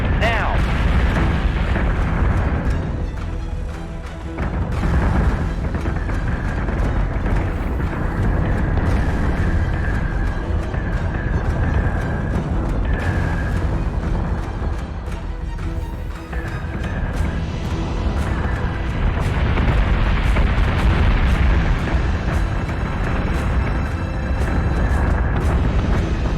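Flak explosions burst repeatedly during a space battle in Battlestar Galactica Deadlock, loud booming detonations layered with rumbling impacts and alarm tones, with voices talking over the barrage.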